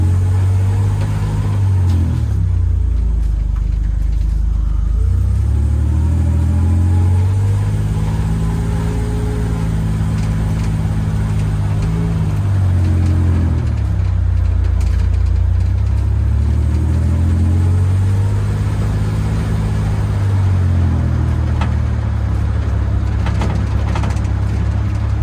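A Buick Grand National running on 87 fuel while driving along at about 35 mph, its engine a steady loud drone that rises and falls in pitch with gentle revving, windows rattling, no talk.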